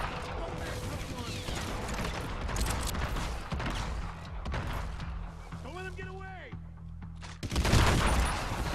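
Gunfire from a weapon in the video game Hitman Absolution crackles in dense bursts over a busy game soundscape, with a brief tonal warble near the end and a loud final blast.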